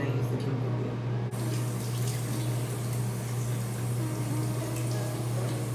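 Tap water runs steadily at a sink during a nighttime skincare routine, a continuous close splashing rush that starts abruptly about a second in and carries on evenly.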